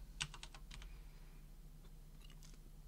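Quiet bursts of keystrokes as a terminal command is typed on a computer keyboard while setting up a Raspberry Pi 4, a quick run of clicks followed by a few scattered taps, with no talking.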